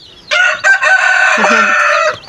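Ten newly hatched baby chicks peep inside their coop, a loud, steady chorus of calls lasting about two seconds and then breaking off.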